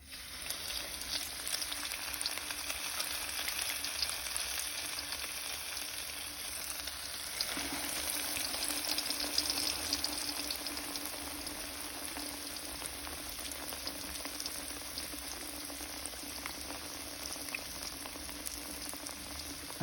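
Bangus (milkfish) fries in hot oil, a dense, even crackling sizzle that carries on steadily and close by with no voices.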